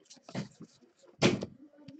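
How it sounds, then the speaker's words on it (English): A door is pulled shut indoors, giving two short thudding knocks about a second apart against an otherwise quiet room. "Can you close the door, please?"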